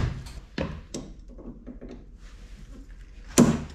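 Door of a rotting 1970s Lincoln Continental that sat about 30 years in a garage, opening and closing with a sharp thump at the start, another near one second, and a loud slam near the end, with creaky rustling in between.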